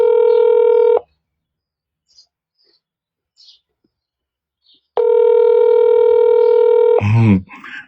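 Outgoing ringing tone of a video call while connecting: a loud steady electronic tone for about a second, a long silent gap, then a second two-second ring cut off by a brief noisy burst.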